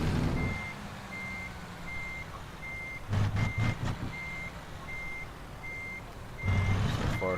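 A truck reversing in a driving game sounds a steady, evenly spaced backup beep throughout, while a low engine rumble swells in two bursts as the throttle is worked.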